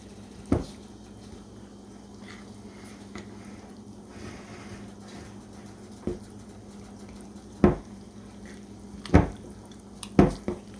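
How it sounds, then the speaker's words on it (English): A spoon stirs jalapeno cornbread batter in a bowl, with a low steady background and a few scattered scraping knocks against the bowl, more frequent toward the end. "Just mix all that up real good till it's good and blended."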